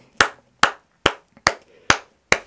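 At a church service, six sharp claps ring out at an even, steady pace, each crisp and clear with silence in between, and no voices.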